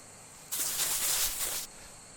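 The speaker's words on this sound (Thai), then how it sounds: "มีแต่เสียงจักรจั่นร้องนะครับ" A loud, dense buzzing drone of cicadas in the horror video game Shadow Corridor swells in abruptly, holds for about a second, then cuts off, leaving quiet background.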